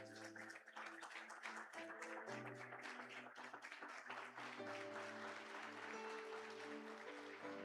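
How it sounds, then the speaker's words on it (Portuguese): A church congregation claps, a faint, sustained patter of many hands with soft keyboard-like tones holding underneath. "Então dê a melhor salva de palmas para Ele"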